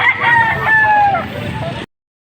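A rooster crows at a rural chicken market in Padre Garcia, Batangas: a single loud, close cock-a-doodle-doo lasting nearly two seconds, its rising and falling call cut off abruptly.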